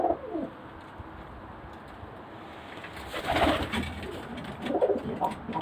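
Imported Pakistani-bred pigeons, including Teddy and '35' breeds, coo in a low, throaty rhythm with no one talking. The calls swell in two louder bursts partway through, over a steady background hiss.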